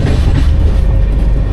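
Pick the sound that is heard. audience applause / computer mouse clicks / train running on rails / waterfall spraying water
train running on rails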